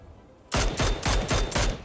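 P90 submachine gun fire in the video game PUBG: after a quiet lead-in, four rapid bursts of automatic shots crack out loud and close, each burst separated by a short gap.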